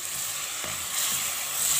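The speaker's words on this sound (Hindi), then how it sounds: "थोड़ा सा पानी डालेंगे इसमें" A splash of water poured into a hot, sizzling tadka of spices and asafoetida for dal palak, giving a steady bright hiss with a brief low splash partway through, close and alone without talk.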